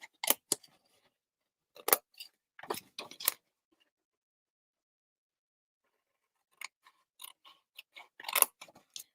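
Scissors cutting straight lines through paper or cardstock for a craft project, with crisp snips in short clusters broken by long silent pauses, close and clear with no voice.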